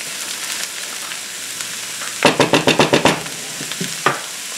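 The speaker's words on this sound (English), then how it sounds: "I'm going to give these a quick stir." Brussels sprouts seasoned with salt and pepper frying in a skillet, a steady sizzle interrupted by a quick burst of about eight rhythmic scraping stirs, then a single knock of the utensil against the pan.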